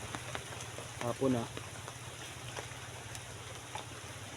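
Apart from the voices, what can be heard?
rain falling outdoors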